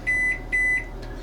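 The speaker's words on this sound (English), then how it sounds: "This isn't a very high power microwave." A low-power RV microwave oven hums steadily while giving two long, evenly spaced beeps close up.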